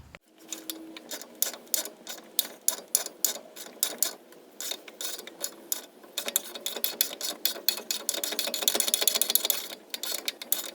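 A bushing tool works the RTAB bushing out of a BMW E46 330i ZHP, with rapid ratcheting clicks and mechanical grinding that grows louder and denser toward the end.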